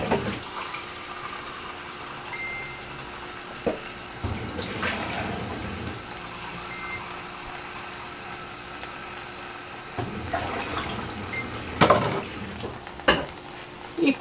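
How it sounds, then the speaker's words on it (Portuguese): Water from a cooking pot pours out into a kitchen sink, a steady splashing rush with a few louder surges and clatters, close by and without speech. "Vou escoar aqui a água."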